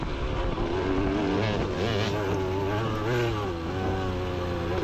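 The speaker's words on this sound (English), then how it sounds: "He can hear my bike." A dirt bike engine revs hard and close during a motocross race, its pitch rising and falling steadily, with no pause in the droning roar.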